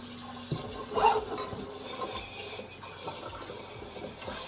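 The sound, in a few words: adding water into an Instant Pot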